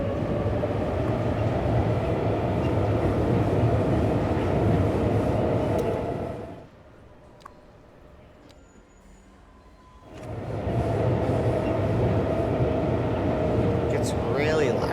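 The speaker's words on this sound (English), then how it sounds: "Have you tried first person to follow the subway? I have, but it gets loud." A subway train in the city-building game Cities Skylines II roars past loudly and steadily, drops away to near quiet for a few seconds, then surges back just as loud.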